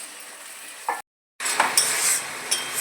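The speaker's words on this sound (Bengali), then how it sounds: "মশলা বাটি ধোয়া জলটাও দিয়ে দিচ্ছি।" Water splashed into a pan of frying spice paste with Kashmiri chili powder, a sharp rush of sizzling after a momentary gap, then continuous loud crackling frying with occasional clinks of a spoon stirring against the pan.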